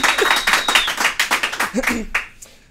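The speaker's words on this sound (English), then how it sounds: "can I please have a loud cheer for Tyson Fury?" Live audience at a podcast taping in Melbourne claps and cheers for a boxer's arrival, a quick burst of rhythmic clapping with whoops that fades out near the end.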